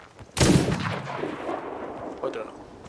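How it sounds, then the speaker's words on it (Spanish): Sniper rifle fired at a shark in Sea of Thieves: one loud, sharp shot with a long decaying boom, then a fainter second report near the end. "Le estoy disparando al tiburón"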